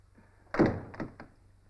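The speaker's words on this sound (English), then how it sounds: "Close the door, please." Door being closed indoors: a solid thunk as it shuts, followed by a couple of lighter knocks and a latch click, close and clear in a quiet room.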